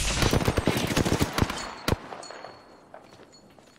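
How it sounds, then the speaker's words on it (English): Rapid bursts of gunfire in a battle royale video game, dense and loud for the first two seconds, then a single sharp shot followed by quieter scattered pops fading into the background. "I'm getting shot at."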